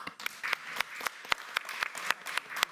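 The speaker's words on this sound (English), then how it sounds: "If we can have a round of applause to our panel." Audience applause for a conference panel on climate mitigation and adaptation in São Paulo State, a light, fairly sparse round of individual claps at moderate distance, lasting the whole short stretch.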